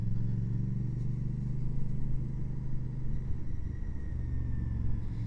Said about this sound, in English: The thrum from the exhaust pipes, quite inoffensive.